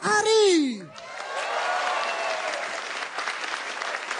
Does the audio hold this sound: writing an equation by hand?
no